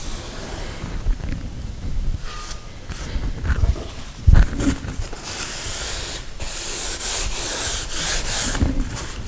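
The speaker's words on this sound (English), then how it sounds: "Now we're going to take our rag. Let's wipe off the excess glue." A rag wipes excess glue off a wood piece during a sliding closet door installation, making a steady close rubbing and scrubbing with a few brief knocks.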